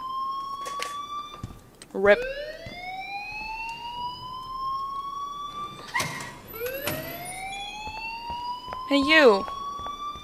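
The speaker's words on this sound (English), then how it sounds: "please turn off that alarm" A fire alarm in the Life is Strange video game sounds as a loud, repeating whoop of rising tones, several sweeps in a row, while people briefly speak over it.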